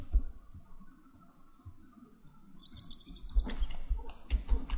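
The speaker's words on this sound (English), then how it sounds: "Jeez, can you help me get this bird out?" A bird chirps indoors in the video game Life Is Strange, with faint twittering calls that grow busier and louder toward the end over a low ambient rumble.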